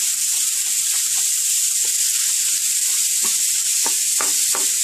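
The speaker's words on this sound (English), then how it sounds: "once the oil is hot, we'll add the beef. The oil should be ready. Let's add the beef. And then take your spatula and break the beef apart." Ground beef sizzles steadily in hot oil, a constant bright frying hiss throughout, with a few soft scraping taps as a spatula breaks the meat apart near the end.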